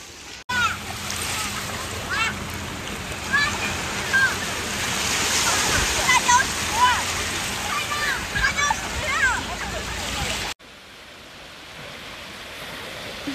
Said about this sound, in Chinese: 哦，海浪来了！